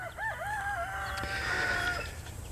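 A backyard rooster crows once loudly and nearby, a long rising then held call, over a faint low hum with hens in the background.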